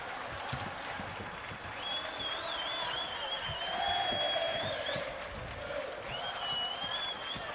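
A girls' high school basketball crowd of Hillsboro Hilltopper fans cheers and applauds at an IHSA Class A semifinal game, a steady broad roar swelling near the middle and holding through, with whistle-like tones over it.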